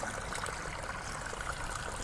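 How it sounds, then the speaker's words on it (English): River water flows in a continuous, even rush with a broad steady hiss, no distinct splashes or pauses, and no voices over it. "if you listen really carefully, you can hear the sounds of a raging river."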